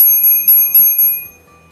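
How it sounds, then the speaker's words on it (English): Bell on a Brompton folding bike rung in several quick bright dings, close and loud, each ring with a sustained metallic shimmer fading out at the end. "I do use my bell."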